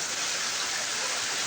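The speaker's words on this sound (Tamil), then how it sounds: "வெளியே அந்த அளவுக்கு மழை பெய்யுது" Heavy rain pours steadily outdoors, a dense, even hiss of falling water with no breaks, fairly loud and close, with no voices over it.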